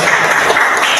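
Brief classroom applause, a steady wash of many hands clapping loudly and close for about a second, with no pause or voices over it.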